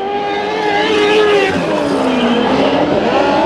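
Race cars speeding around the oval at Bakersfield Speedway, a loud, continuous engine roar with rising and falling pitch as the cars pass close by at full throttle.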